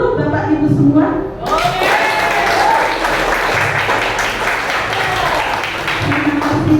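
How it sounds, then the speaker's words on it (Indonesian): Applause breaks out from an audience gathered at an Indonesian school dissemination event, a dense, steady wash of clapping that holds for several seconds, with a voice briefly heard near the start. "boleh saya mendengar tepuk tangan yang meriah dari seluruh Bapak Ibu semua?"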